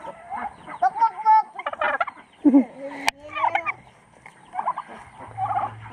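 Farm turkeys gobble in several separate bursts, close and fairly loud, interspersed with softer clucking and low background sounds.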